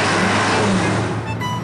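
A car pulls away as the driver presses the gas pedal, its engine note rising steadily with a close, continuous hum throughout.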